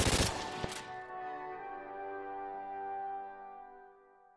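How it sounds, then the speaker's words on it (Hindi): Soldiers fire guns into the air at a Republic Day salute, a quick cluster of loud cracks in the first second, followed by a long ringing tone that slowly fades. "चलो सब हवाई फायरिंग करो"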